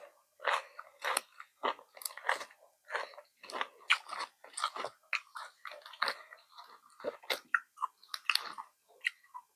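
Crunchy grilled pork ear chewed close up, a steady run of sharp crisp bites and crunches across the whole stretch, loud and wet, with no talking.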